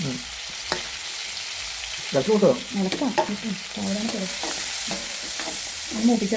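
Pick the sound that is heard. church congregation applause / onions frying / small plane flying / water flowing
onions frying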